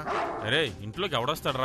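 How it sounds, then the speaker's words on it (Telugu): A house dog barks angrily in short yelping bursts close by, overlapping with a man's worried speech. "పైగా కుక్క అరుస్తుంది."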